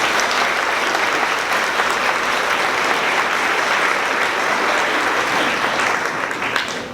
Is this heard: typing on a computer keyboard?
no